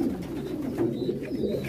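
Pigeons coo softly and repeatedly near a spot where water has spilled, low burbling calls overlapping steadily with no talk.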